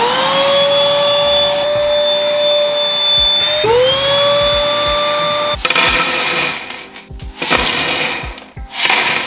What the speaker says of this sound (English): All we've got to do is vacuum out all this debris